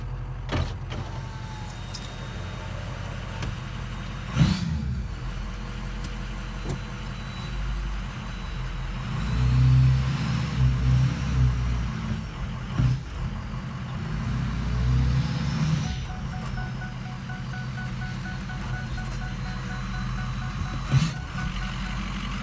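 A Ford 6.0 Powerstroke diesel truck idles with a low, steady rumble, and the engine note swells a little midway. A few clicks and knocks punctuate the running.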